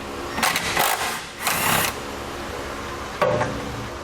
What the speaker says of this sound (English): what we're going to do is just take that nut off